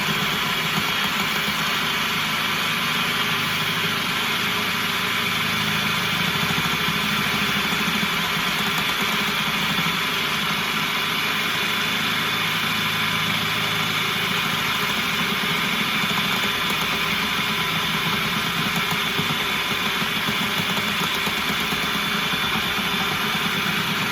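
An electric mixer churns pecan cookie dough with frozen butter, a steady, loud whirring drone that runs unbroken from start to finish with no voices over it.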